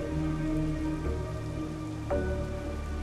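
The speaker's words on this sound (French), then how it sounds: "Farhan, il pleut dehors. C'est une tempête dehors." Steady rain pours outside during a storm, a continuous wash of drops hitting surfaces with a low rumble, under a faint tonal background score and no talking.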